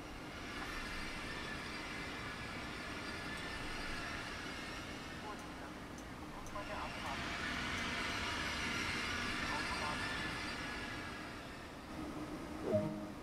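Passenger train arriving into Munich in the simulator game Train Sim World 2, a steady rumbling roll of wheels and motor that swells and eases, with someone talking over it and a brief click near the end.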